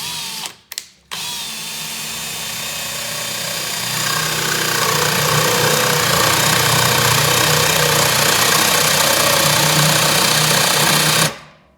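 A power drill bores a hole, starting with a few brief clicks, then building into a loud, steady, close grinding whine that runs for several seconds before stopping abruptly.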